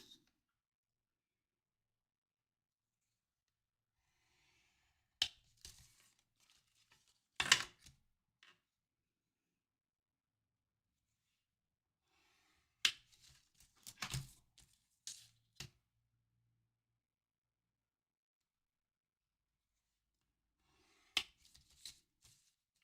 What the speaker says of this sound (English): I'm actually just going to use my scissors to cut this one.